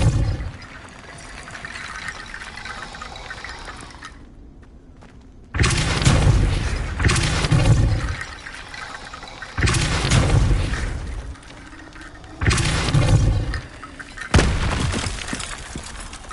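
Spell blasts from the Hogwarts Legacy game on PS5: Depulso casts land as several loud, booming whooshes in separate bursts over a steady game ambience, with a brief near-silent gap between them.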